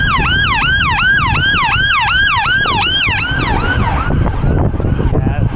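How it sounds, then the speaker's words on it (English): A loud wailing ambulance siren sweeps up and down repeatedly over traffic noise, fading slightly toward the end as it passes. "a lot of ambulances just now"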